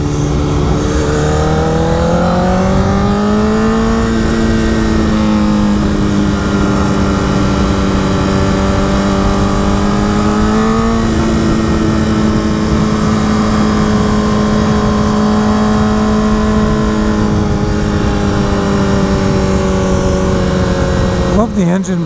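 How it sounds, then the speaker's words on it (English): A 2013 Honda CBR 1000RR engine roars close and loud while riding, its pitch rising and falling through gears and easing off under engine braking, with steady wind rush throughout. "Love the engine braking on the CBR."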